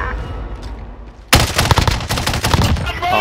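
A PKM machine gun in Call of Duty Warzone (Cold War season 2) opens up after a quieter lead-in, with rapid, loud, close bursts of automatic gunfire that continue to the end.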